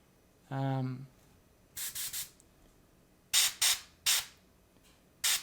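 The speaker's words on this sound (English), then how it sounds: "Let's do a little bit of precision spraying right there" Short hissing bursts of Pro Acryl black primer from a spray can, in quick clusters of two or three puffs, close and crisp, following a brief voice at the start.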